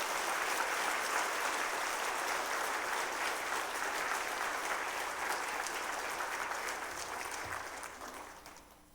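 Warm applause from a church congregation welcoming a preacher to a special evening service, steady and full before tapering off near the end.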